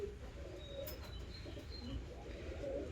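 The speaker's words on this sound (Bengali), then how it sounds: "এটা একটা মালবাহী পায়রার বাচ্চা।" Pigeons coo softly in a loft where birds sit with their young, low murmuring calls continuing through the moment with a faint chirp or two over steady background hiss.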